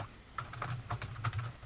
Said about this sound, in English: No, we were hearing someone's typing.